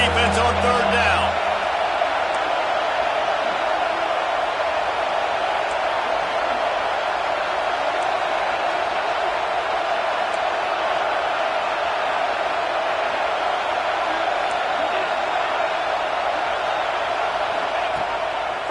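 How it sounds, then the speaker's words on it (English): A college football stadium crowd roars steadily on third down, a dense, unbroken wall of cheering that holds at the same loudness throughout, with no clear voices picked out. "Decibels rising as the crowd gets behind this defense on third down."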